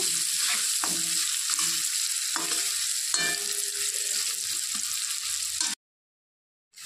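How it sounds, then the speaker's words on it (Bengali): Potatoes fry in hot oil with a loud, continuous sizzle and the occasional scrape or clack of stirring. The sound cuts off abruptly near the end, leaving a short silence. "আলু ভাজা হয়ে গেছে"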